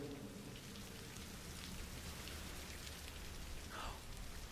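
Rain falls in the horror video game Layers of Fear, a steady, even hiss of downpour throughout with no talking.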